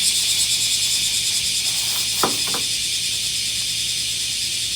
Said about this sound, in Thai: ขอภัยเสียงจิ้งหรีด้วยนะ ก็ขอภัยเสียงจักรจันด้วยนะคะทุกคน